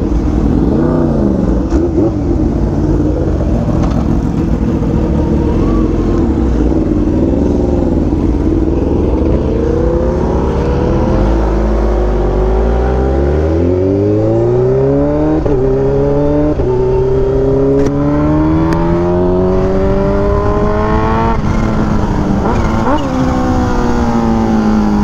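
Kawasaki Ninja H2 motorcycle ridden through Los Angeles and Hollywood streets, its engine loud and close with rising and falling revs as it accelerates and shifts, under continuous wind rush.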